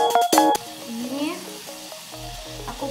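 Margarine sizzles in a frying pan as it is stirred for a sauce, with a brief clatter of the utensil at the start and then a steady, close sizzle.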